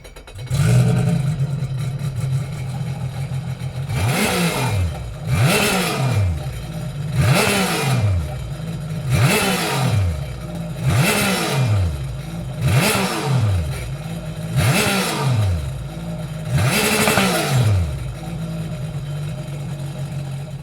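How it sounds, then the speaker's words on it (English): A Sea-Doo jet ski engine with a Riva dual rear exhaust revs repeatedly in a regular rhythm, about ten throaty blips rising and falling over a steady idling rumble, loud and close. "now we're going to start her up so you can hear that awesome stereo exhaust tone of the dual system"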